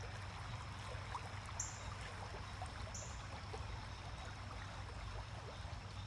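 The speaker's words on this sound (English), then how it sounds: "we're on a very small little creek in an urban community outside Toronto." Small creek in an urban community outside Toronto, a faint continuous trickle and wash of flowing water, steady and soft, with a couple of brief high chirps and no voices.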